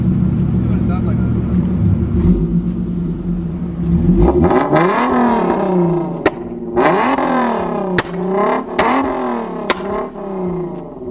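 A turbocharged Nissan 350Z on a popcorn map holds a steady low idle, then revs up and down in repeated loud swells, with crackling exhaust pops and bangs as the revs fall, close to the microphone.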